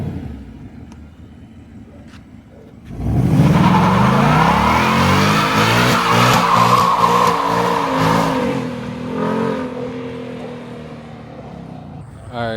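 2024 Mustang GT V8 revving hard for a rolling burnout, a loud close roar swelling up after a quiet start, then holding and slowly easing off.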